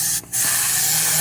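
A compressed-air nozzle blows rocks and sand out of a car interior, a loud continuous close hiss with a short break near the start, then steady again; no talking.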